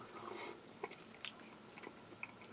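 Tuna in an onion and tomato sauce from a French army commando ration is chewed close up: faint, wet mouth clicks and soft crunches scattered irregularly over a quiet background.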